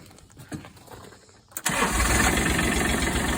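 A cheap Mule utility vehicle cranks briefly and catches on a cold start, its small engine then settling into a steady, loud, close idle that carries to the end.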